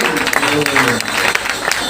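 An audience claps through the whole stretch at an evening village event, the clapping mixed with crowd noise and voices at a fairly steady level.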